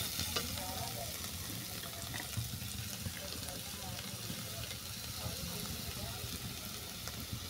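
Banana stem and potatoes fry with mussels in a pan, a dense, continuous sizzle and crackle heard at moderate distance with a little stirring, steady throughout with no clear talk.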